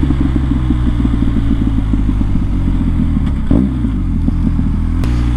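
A 2024 BMW 1250RT motorcycle engine runs close by with a steady low throbbing idle and a slight blip of revs midway, no talking over it.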